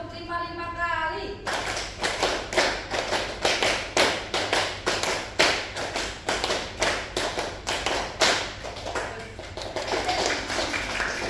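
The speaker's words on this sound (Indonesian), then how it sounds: "Tepuk 1, tepuk 2, tepuk 3, tepuk 4, tepuk 5," A classroom of students claps on the teacher's count in crisp, evenly spaced rounds of sharp hand claps, repeated many times at a steady rhythm, with a voice counting over them.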